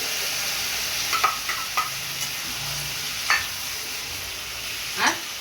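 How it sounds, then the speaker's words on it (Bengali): Poppy seed paste and green chilli frying with potatoes in a pan gives a soft, steady sizzle, broken by a few sharp scrapes and clinks of stirring. "আলু কষিয়ে নিয়েছি, এবার পোস্ত বাটা দিয়ে দেবো"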